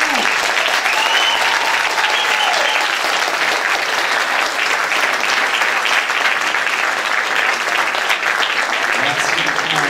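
Steady, dense applause from a large crowd at a gala awards event fills the whole stretch, loud and continuous without letup.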